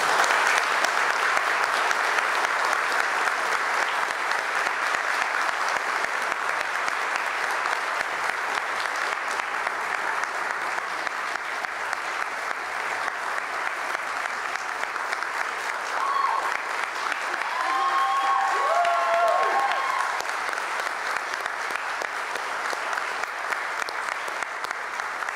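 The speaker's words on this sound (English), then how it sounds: "Gave a big round of applause" An audience at the Sophie Kerr Prize ceremony gives sustained applause. The clapping is dense and steady throughout, a brief voice rises over it partway through, and it stays strong to the end.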